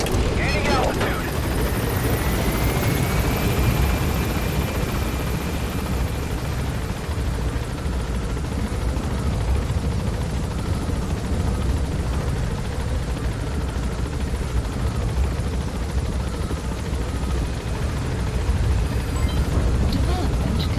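A helicopter climbing in Metal Gear Solid 5, a loud continuous rotor and engine roar filling the whole stretch, steady and close with a rising whine near the start and a voice talking over it.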